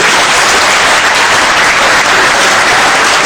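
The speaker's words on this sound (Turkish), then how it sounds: "Önce öğretmenlerimizi alkışlamamız lazım." An audience applauds teachers in a hall, a dense, loud, continuous clapping that holds steady throughout.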